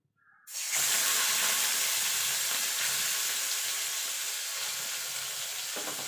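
Fish oil drops into a hot pan with a sudden loud sizzle that holds steady and slowly eases over several seconds, close and alone without talk.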